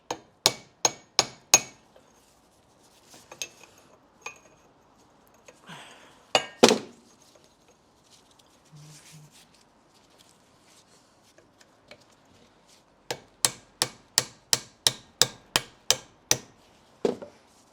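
A small hammer taps metal in quick, sharp strikes while working on a Rolls-Royce B80 engine in a Bentley Special: a burst of four, a few scattered knocks, then a steady run of about ten rhythmic taps.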